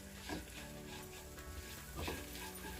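A putnala podi mixture fries on a low flame, giving a soft, steady sizzle with occasional stirring scrapes and a couple of louder bursts, fairly quiet and with no voices.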